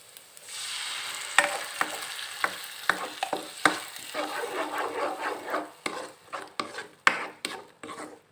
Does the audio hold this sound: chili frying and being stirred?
yes